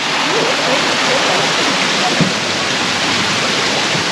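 Loud, constant rush of flowing water, like a nearby waterfall or fast stream, filling the whole clip with dense white-noise hiss.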